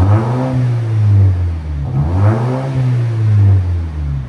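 Two sharp revs from a muffler-deleted 2019 Volvo S60 T6 2.0L turbo, each rising to a loud, raspy roar and then dropping back toward idle, heard close and clear.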